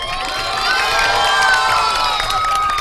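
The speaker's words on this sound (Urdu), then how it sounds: "بہت ساری تالیاں بجا دیں ان کے لیے بھائی" A studio audience cheers loudly with some clapping, shouting and whoops mixed in, a sustained crowd roar with no voice rising above it.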